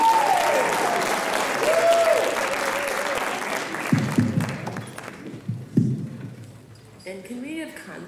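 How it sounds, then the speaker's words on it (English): Audience applause at a writers expo fills the first few seconds as a dense, steady wash of clapping, then thins out while people talk and shuffle nearby. "Give her a round of applause"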